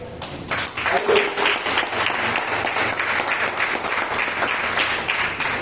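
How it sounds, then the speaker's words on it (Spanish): A church congregation bursts into sustained applause, dense clapping from many hands lasting several seconds, loud and close, filling the space without talk over it. "¿Cuánto le damos un aplauso a eso?"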